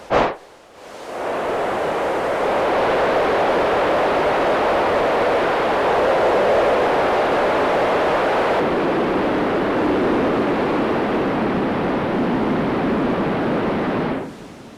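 Distorted synthesized rain noise from a DSI Pro 2 synthesizer: loud, dense rain-like roar with a rough, distorted grain, steady throughout after a short click at the start, cutting off near the end.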